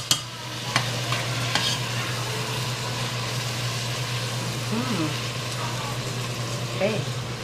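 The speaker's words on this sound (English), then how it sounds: "let it saute a bit." A Filipino dish sautés in a pan at home, giving a steady, fairly loud sizzle with occasional stirring clinks, while people talk in the background now and then.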